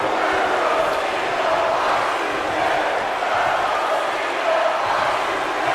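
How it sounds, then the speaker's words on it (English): Steady, loud arena crowd noise from a WWE 2K19 Raw broadcast, with rhythmic chanting and cheering rolling continuously under the match action. "Look at this crowd, some Y2J fans, but let's go Cena chants."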